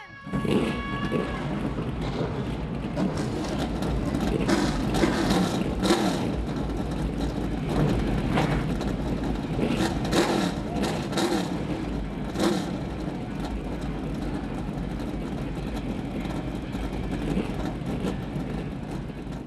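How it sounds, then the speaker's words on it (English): Race car engines fire and rev together at the start of a short-track race at Bowman Gray Stadium, a loud sustained roar with swelling revs and sharp bursts that fills the whole stretch. "Engines are fired here at the back."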